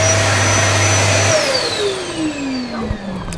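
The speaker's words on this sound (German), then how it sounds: "Das war der Staubsauger." A built-in central vacuum cleaner inside a 2022 Polar 680 Customized caravan drones loudly with a steady motor whine, then switches off and winds down to a fading hum within a few seconds, with no talking.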